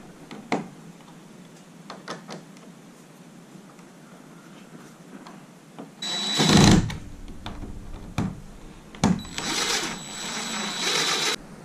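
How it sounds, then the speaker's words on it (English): A screwdriver drives screws to fasten a 120V AC outlet into its box in a school bus conversion: scattered faint clicks and ticks, then two louder bursts of grinding, whirring effort close by. "I'm gonna get my screwdriver and screw this one in."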